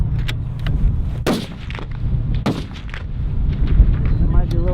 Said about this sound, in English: You may commence fire.